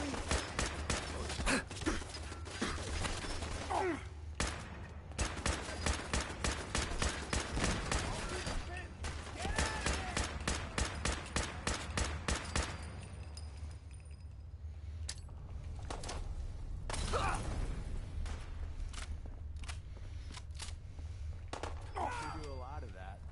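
Fallout 4 gunfire crackles in rapid bursts of sharp shots, grouped into dense volleys with brief gaps between them. A person talks under parts of the shooting.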